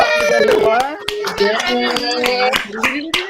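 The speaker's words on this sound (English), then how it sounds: "Let's give a huge round of applause for our big D of the night, David." Scattered hand claps from a small studio audience or crew ring out in separate bursts at a talk show wrap-up, the claps mixed with laughing and cheering voices rather than forming a full wave of applause.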